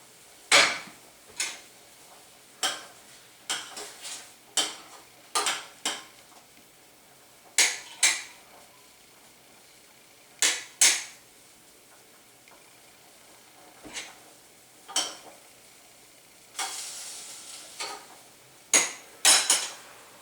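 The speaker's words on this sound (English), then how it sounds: "The next one we will be placing inside will be the okra." Okra and other ingredients are dropped into a pot, making a long string of sharp clinks and knocks of utensils and cookware that arrive in irregular bursts with quiet gaps between them.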